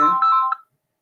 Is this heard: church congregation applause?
no